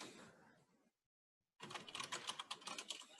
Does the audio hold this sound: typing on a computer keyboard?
yes